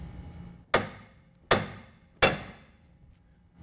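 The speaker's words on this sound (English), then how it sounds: "we're going to use a hammer and tap the side of the knuckle where it attaches to the upper control arm" A hammer strikes the steering knuckle of a 2017 Chevrolet Silverado 2500 HD three times at an even pace. Each blow is a sharp, close metallic bang that rings out briefly.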